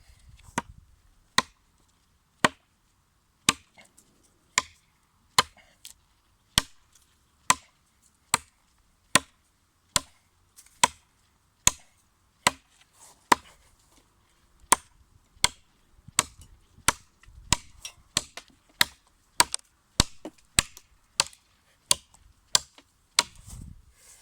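A heavy Bark River Bravo 3 knife chops into wood with sharp, evenly spaced strikes, around thirty hits that quicken toward the end, close and loud against quiet.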